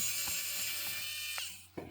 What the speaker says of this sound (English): You will need to unscrew that one as well.